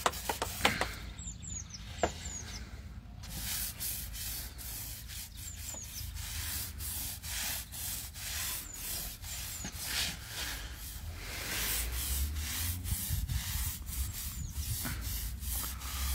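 A stiff brush scrubs a blue stone outdoor terrace in rapid rhythmic strokes, a steady close rasping that keeps going throughout with a few sharp knocks early on.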